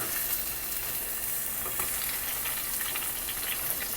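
Chicken wings frying in a pan for a Bangladeshi-style recipe, a steady dense sizzle holding at even loudness throughout, with faint scattered crackles and no voices.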